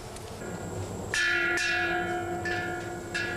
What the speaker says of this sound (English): The 5 o'clock bell ends the day's work.